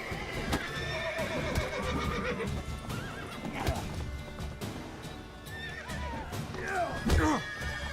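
A horse in The Witcher 3: The Wild Hunt whinnies and neighs while hooves clip-clop and stamp beneath dense game sound, with the loudest neigh near the end.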